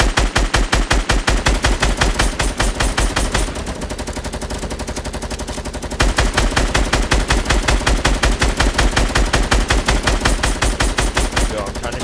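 Fortnite automatic gunfire, rapid steady bursts of shots at a fast even rhythm, loud and close, with a brief change to a rougher spray in the middle before the regular firing resumes.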